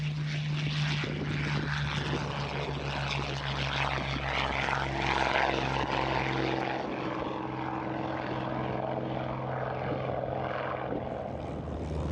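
A propeller aircraft lifts off on its maiden flight with a steady droning engine roar that holds loud and continuous, then slowly fades as it climbs away.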